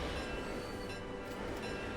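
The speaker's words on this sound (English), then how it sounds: "we've been watching this train go by back and forth for a little bit" A passenger train in the game Transport Fever 2 runs steadily past, giving a continuous dense rumble of wheels and carriage noise at an even level for the whole stretch, with no voices.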